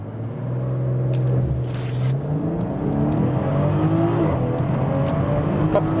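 A BMW X5 40i G05 SUV with all-wheel drive accelerates hard from a launch, its engine note rising steadily and droning loud and close throughout, with no talk over it.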